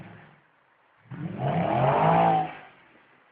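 Audi A8 with a custom exhaust spinning a donut in snow, the engine note swelling from a low rumble into a loud, sustained rev for about a second and a half before fading, with no one talking over it.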